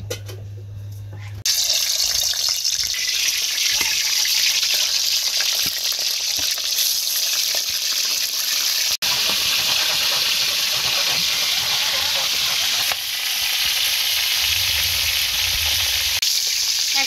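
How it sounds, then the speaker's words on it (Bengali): Oil frying in a kadai (wok) for desi chicken roast, a loud continuous hissing sizzle close by that holds steady throughout, with a brief low rumble at the start and a momentary dropout partway. "এগুলো ভাজার জন্য এখন আমি কড়াইতে তেল দিয়ে নিচ্ছি।"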